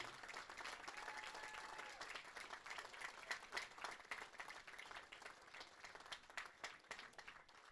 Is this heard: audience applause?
yes